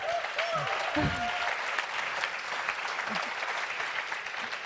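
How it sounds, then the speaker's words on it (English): Seminar audience gives warm applause to guests, a continuous bed of clapping with a whoop or voice rising briefly near the start. "let's give them a warm welcome and a round of applause"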